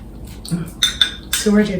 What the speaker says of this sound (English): I will give this another little stir.